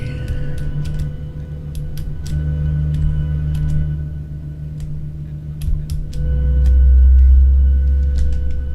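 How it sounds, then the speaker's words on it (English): Aircraft engines in a flight simulator game, heard from a rear view in flight: a steady, heavy low rumble with droning tones and light ticking on top, swelling louder toward the end. "These are the new views where you can hear the engines from the back."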